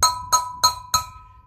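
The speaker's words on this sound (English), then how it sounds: "sometimes you have to take a little chisel to try and strike" A small chisel strikes a bearing race on a VW Puma drop spindle four times in an even rhythm. Each blow gives a bright, ringing metallic clink that fades quickly.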